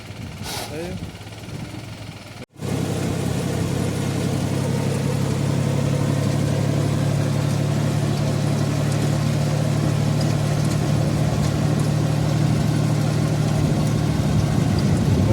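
A tractor engine running in a village, a steady low mechanical drone that holds throughout after a brief break, with people talking over it.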